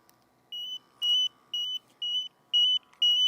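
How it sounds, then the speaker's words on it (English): A handheld gas detector used for confined space testing sounds its alarm, six evenly spaced sharp electronic beeps close by, each about a quarter second long with short gaps between, over a faint steady background hum. "Instrument may go into alarm because we have put an additional pull on the pump in the instrument."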